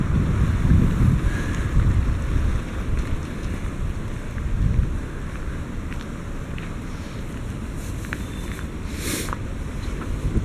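A very strong east wind buffets the microphone along a riverside embankment in Rostov-on-Don, with loud, continuous low rumbling gusts that swell and ease throughout, and no voices.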